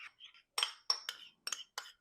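A utensil stirring salad dressing of mayonnaise, pepper, salt and red wine vinegar in a bowl, giving a handful of quiet, close, bright clinks in an uneven rhythm.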